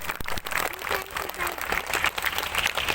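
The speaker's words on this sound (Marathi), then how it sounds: "टाळ्या जोरदार झाल्या पाहिजेत।" An audience applauds steadily at a welcome ceremony for a couple during a Shri Swami Samarth Maharaj celebration in Kedgaon, Ahmednagar, the clapping dense and sustained throughout.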